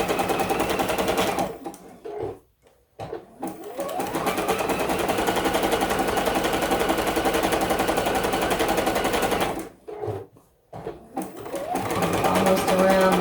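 A sewing machine stitches a quilt block with a fast, continuous mechanical whir and rapid needle clatter, close and loud, stopping twice for brief pauses before running again.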